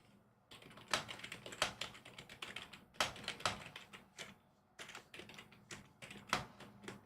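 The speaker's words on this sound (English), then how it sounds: "What's wrong with my typing?" Rapid bursts of typing on a computer keyboard during PC gaming, with close, clacky keystrokes arriving in uneven clusters and short pauses between runs.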